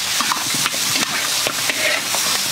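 Pig skin stir-frying in hot oil with star anise and soy sauce, a steady loud sizzle broken by sharp scraping strokes of a spatula against the wok several times over the stretch.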